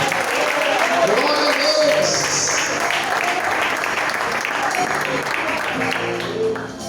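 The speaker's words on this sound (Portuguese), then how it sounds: "Aplauda bem forte, igreja." A church congregation applauds strongly during a worship service, with continuous dense clapping close by and a voice speaking over it.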